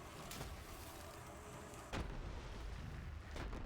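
Booming explosions in Borderlands 3 sound over a dense, steady wash of noise, with sharp blasts landing at irregular intervals.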